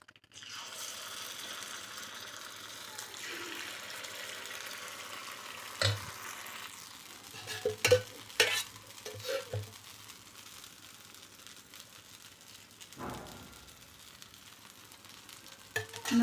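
Sorghum batter paniyaram fries in oil in a heated stone paniyaram pan with a soft, steady sizzle, joined by scattered clinks and scrapes of utensils against the pan.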